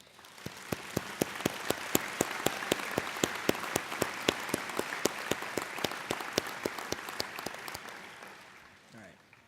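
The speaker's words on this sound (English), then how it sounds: "Let's give them all a very large round of applause." Graduation applause for teachers comes from a crowd: one loud, evenly paced clapper sits close up over a dense wash of clapping. The applause holds for several seconds, then tapers off.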